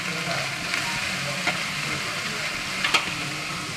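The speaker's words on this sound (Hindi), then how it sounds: "अब इसमें हम डाल देंगे गाजर। गाजर को भी हम फ्राई कर लेंगे।" Carrots sizzling steadily in hot oil in a pan while pulao is being prepared, a close, even hiss with a couple of brief sharp crackles.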